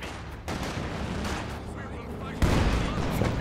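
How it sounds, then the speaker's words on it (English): A flak panzer firing through a building in a Company of Heroes 2 battle: dense bursts of rapid gunfire that start abruptly and grow heavier and louder toward the end. "he's actually managing to shoot through this building with the flak panzer"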